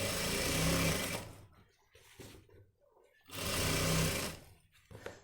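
Sewing machine stitching the waistband onto a pair of men's high-waist pants, two steady runs of fast mechanical whirring with a quieter pause between, close and even.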